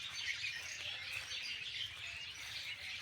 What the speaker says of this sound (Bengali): আমি মূলত পাখিদের গুঞ্জন শোনানোর জন্যই আপনাদের জন্য এই দৃশ্যটা ধারণ করছি